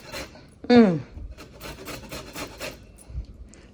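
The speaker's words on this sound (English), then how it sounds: "I'm going to take a lemon and just add a little bit of zest to it." Scratchy rasping strokes of a lemon being zested on a grater, close and dry, with a brief tonal squeak near the start followed by a run of short rubbing passes.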